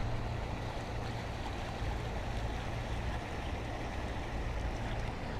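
Water draining down through the soil and root system of a container plant at a nursery after watering, heard as a steady, close rushing trickle with no talk.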